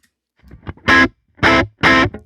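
Three loud, dry distorted electric guitar chords with the reverb pedal switched off ring out in short bursts, each cut off cleanly with no lingering tail, after a few quiet muted scratches.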